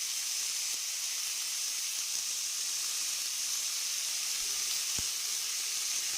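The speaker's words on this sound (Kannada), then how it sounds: "ಈಗ ಇದಕ್ಕೆ ಟೊಮೊಟೊ ಹಾಕ್ಕೊಳ್ತೇನೆ" Onion, tomato and cumin sizzling in a pan for tomato chutney, a steady, even hiss of frying with a couple of faint clicks, close and constant throughout.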